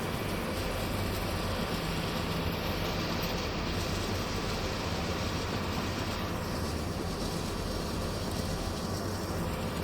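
A Union Pacific train, with a gas turbine electric locomotive nearby, passes in Cheyenne with a loud, steady, continuous rumble and rail roar that fills the whole stretch, with no talk over it.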